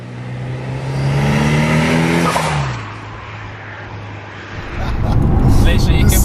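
A 21-year-old Mitsubishi Evo 6 engine revs hard under acceleration, its pitch climbing then dropping sharply on a shift, followed by a rougher rising growl, loud and close throughout.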